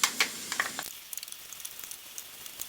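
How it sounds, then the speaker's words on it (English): Garlic and onion sizzle and crackle in a pot for a Brunswick stew, with sharp pops near the start settling into a steady, moderate frying hiss with scattered small crackles. "Add the garlic, cook for 30 seconds until fragrant"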